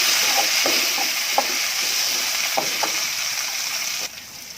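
Onions sauté in oil with a steady frying sizzle and occasional stirring scrapes, loud and close, ending abruptly near the end.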